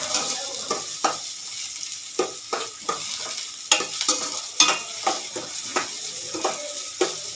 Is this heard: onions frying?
yes